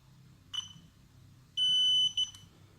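A DJI Spark drone controller gives a short electronic beep, then after a pause a longer sustained tone followed by a quick second chirp, clear and close with nothing else over a faint low background hum.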